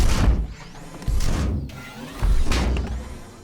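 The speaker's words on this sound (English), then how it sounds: "I've designed the main robot footstep with this great Weaponiser preset, which is called Mech Footstep" Heavy mechanical thuds with metallic whirring, three weighty stomps a second or so apart, dense and booming like a sci-fi robot stepping.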